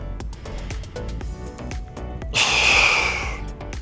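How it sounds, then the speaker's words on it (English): Someone pressing dumbbells while lying on a bench or mat breathes hard through the nose in quick rhythmic snorts, then gives one long, loud exhale near the end, close and alone. "breathe in as I lower, exhale as I press"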